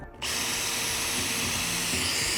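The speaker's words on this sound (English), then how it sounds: "So I'm gonna go ahead and drill some holes. This is a 3/16 bit." Power drill boring holes with a 3/16 bit into a home-built quarter pipe skate ramp, a loud, steady whine that starts abruptly after a brief pause and runs continuously close up, alone without talk.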